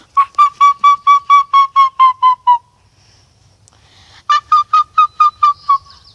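A person whistles an imitation of a pileated woodpecker call: a quick run of about ten evenly spaced, piercing notes, a short pause, then a second run of about seven, loud and close.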